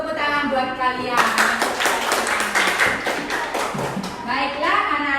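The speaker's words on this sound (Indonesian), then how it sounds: "tepuk tangan buat kalian." Fifth-grade children clap together in a classroom, a dense, lively burst of applause lasting about three seconds. A teacher's voice is heard speaking just before and after it.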